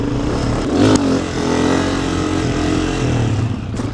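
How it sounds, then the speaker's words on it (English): A motorcycle engine drones steadily at close range, revving briefly near the start and then holding a fairly even tone while the bike slows during a wheelie attempt. No talk is heard. "did you hear how the bike started slowing down?"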